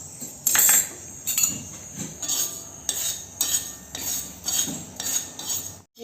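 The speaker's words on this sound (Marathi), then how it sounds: "हे पहा तीळ भाजली जाते" Sesame seeds roasting in a pan on a griddle, stirred with a utensil that clinks and scrapes against the metal in repeated bursts, close and fairly clear with a light sizzle underneath.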